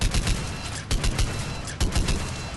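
Argus assault rifle fired from the hip in Mass Effect 3: three loud, rapid bursts of gunfire, each a tight cluster of booming shots, back to back.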